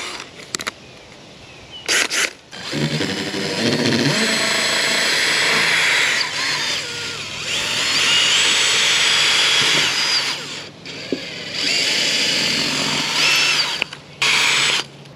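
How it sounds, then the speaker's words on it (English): A power drill pre-drills through a deer skull's bone into wood for a European mount. Several sustained, close whining bursts are separated by short quiet gaps and brief handling clicks, with no talking. "I'm gonna pre-drill through the bone into the wood."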